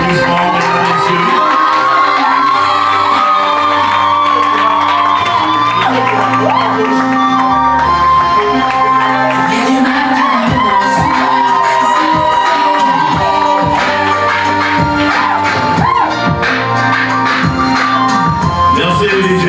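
Guests at a Gabon-France civil wedding cheer, whoop and shout over loud music in a lively crowd roar that lasts throughout.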